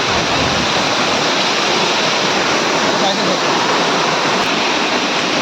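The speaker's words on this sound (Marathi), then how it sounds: "या धबधबा जवळ आलोय आम्ही" Loud, constant roar of a waterfall nearby, a dense rushing wash of water that fills the whole scene.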